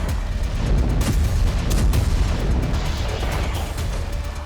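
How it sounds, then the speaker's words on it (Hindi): Bombing in the Ukraine war comes through as a continuous muffled rumble with scattered dull booms and pops. The sound is distant, dense and noisy, and no voices are heard. "रूसी फौज ने जबरदस्त बमबारी की है"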